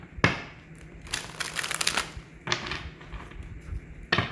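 Tarot cards are shuffled by hand in short bursts, each a crisp riffling flutter. A sharp snap opens the run, a longer riffle follows in the middle, and another quick burst and tap close it, all close and fairly quiet.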